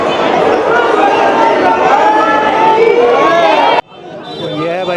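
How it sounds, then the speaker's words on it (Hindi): A dense crowd mills around the Dwarkadhish temple in Braj, a loud continuous murmur of many voices close by; the babble drops off abruptly near the end, leaving quieter chatter. "आप देखें भीड़ यहाँ पे।"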